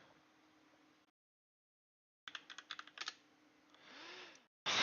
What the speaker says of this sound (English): Why am I not just typing it in?